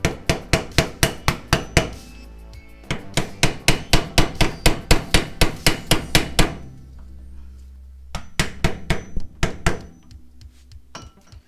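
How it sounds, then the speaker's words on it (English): Rapid metallic hammer blows on a screwdriver knocking a wheel dust cover off a 1991 Trans Am ring out in quick repeated series, sharp and close, with brief pauses between runs of strikes. "grab a screwdriver and a hammer. And we're going to knock this dust cover off."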